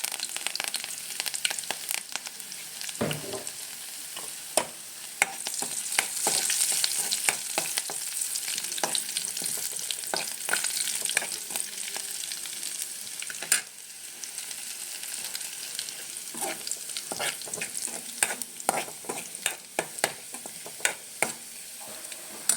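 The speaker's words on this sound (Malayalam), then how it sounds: "നമുക്ക് ഉള്ളി ഇട്ട് കൊടുക്കാം നമുക്ക് കറിയാപ്പിലയോട് ഇട്ട് കൊടുക്കാം" Onions and curry leaves fry in a pan with a constant close sizzle, broken by scattered scrapes and taps of a spoon stirring them; nobody speaks.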